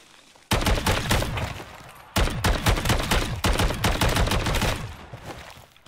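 Full-auto fire from an MCW 6.8 rifle in Call of Duty Modern Warfare 3 zombies, rendered as three loud, sustained rapid bursts of shots with brief gaps between them.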